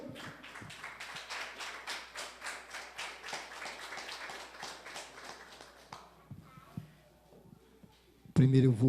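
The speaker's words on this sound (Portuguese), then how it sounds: "Vamos aplaudir o Senhor?" A church congregation claps together in a steady, rhythmic beat for about six seconds, fairly loud and close, then fades into quiet before a sudden burst of louder sound at the end.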